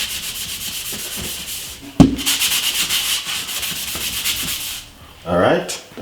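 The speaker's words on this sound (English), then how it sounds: "You can use a toothbrush and I'll simple just rub it out" A toothbrush scrubs the inside of a kettle coated with baking soda, lemon juice and toothpaste, giving a steady rapid hiss of bristle strokes close by, with a sharp knock near the two-second mark and a brief pause toward the end.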